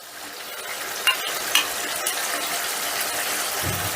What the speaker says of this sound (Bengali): যতক্ষণ না মশলাটা তেল ছেড়ে দিচ্ছে ততক্ষণ কষতে থাকবো